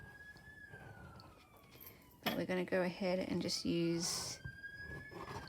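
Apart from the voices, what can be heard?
emergency vehicle sirens in the background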